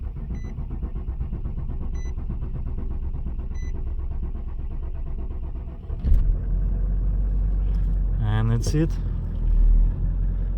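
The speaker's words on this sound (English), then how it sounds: "push it the brake and start engine" Nissan Titan diesel engine cranking and starting after a steady hum, then settling into a low rumbling idle, close by, with someone speaking briefly.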